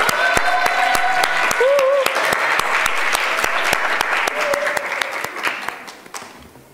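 A lecture audience at a conservative forum on North Korea and Korean reunification claps steadily and loudly for the full length, with a few voices and faint whistle-like tones over the sustained applause before it tapers near the end.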